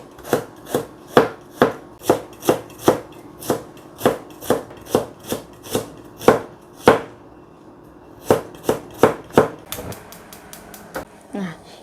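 Young ginger being chopped on a cutting board for stir-fried baby squid, a steady run of sharp, evenly spaced knife strikes, a brief pause, then another quick burst of chops, close and clear with no talking.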